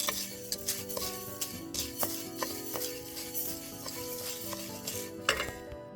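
Rice and fenugreek seeds dry-roasting in a pan, stirred with a spoon that scrapes and clinks against the metal in irregular strokes over a soft sizzle, close and fairly quiet.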